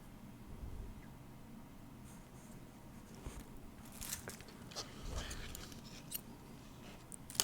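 Scissors cut out a photopolymer stamp plate at close range, giving scattered short snips and crisp crackles over a low background hum, with a few sharper cuts near the end.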